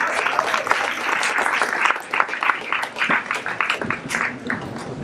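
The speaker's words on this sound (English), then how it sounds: "So let's give them a big round of applause." An audience at a science and technology panel applauds, a steady wash of clapping that holds strong and then thins slightly toward the end, with no speech over it.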